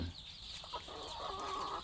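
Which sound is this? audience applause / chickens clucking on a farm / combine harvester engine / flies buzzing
chickens clucking on a farm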